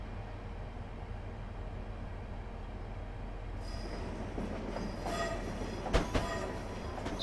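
Train in the Train Simulator video game rumbling steadily along the line, a low continuous rolling drone joined midway by brighter wheel and rail noise and a couple of sharp clanks near the end.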